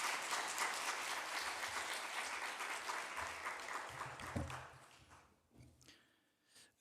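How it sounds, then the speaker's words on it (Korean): A church congregation at an early Friday morning revival service claps to welcome the pastor, a broad sustained round of applause that fades out over the last couple of seconds, followed by a few quiet stray sounds. "우리 큰 박수로 우리 차준희 목사님 모시겠습니다"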